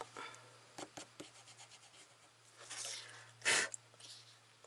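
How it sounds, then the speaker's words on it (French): An eraser rubs out the pencil sketch of a moon on a small watercolor illustration, giving soft, intermittent scrubbing strokes with one louder rasp near the end over a faint steady hum. "Et maintenant, on peut gommer le crayonné de notre lune."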